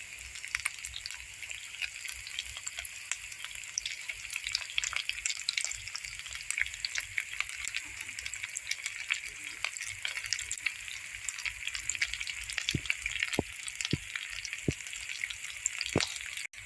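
Coarse potato pieces frying in oil in a pan for chola and samosa filling, with a steady, close sizzle and crackle that runs throughout, plus occasional light pops and stirring clicks.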